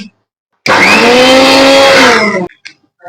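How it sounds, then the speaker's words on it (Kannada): A mixer grinder whirs loudly for about two seconds, blending cucumber chutney, its motor pitch shifting slightly, then stops abruptly. "ಇದನ್ನ ಮಿಕ್ಸಿಗೆ ಹಾಕೊಂಡು ಮತ್ತೆ ಸಿಗ್ತೀನಿ"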